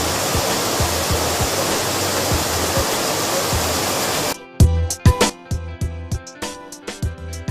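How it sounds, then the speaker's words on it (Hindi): A wheat washing system in a flour mill rinses grain with clean water, giving a loud steady rush like a waterfall for about four seconds, then cutting to sparse clattering knocks and splashes over a quiet machinery hum. "इस सिस्टम में गेहूं को साफ पानी से धोया जाता है"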